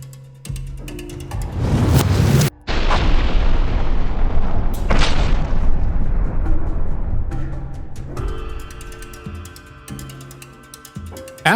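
An FPV drone strike detonates on a Russian underground position in the Kherson region: a sharp loud blast, a brief cut, then a second burst and long rumbling noise that slowly fades.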